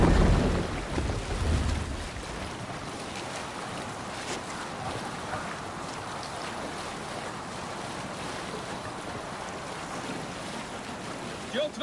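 Longship sailing out over ocean waves in the Assassin's Creed Valhalla game, a steady wash of water and wind rushing past the hull, loudest at the start then settling into a constant surging roar.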